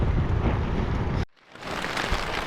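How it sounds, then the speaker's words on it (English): Heavy rain pours during a lightning storm at a tent campsite, a dense, loud rushing hiss with low rumbling that drops away abruptly for a moment before the downpour swells back. "we're in a lightning storm"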